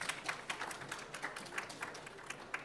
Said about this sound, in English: Big round of applause for these ladies.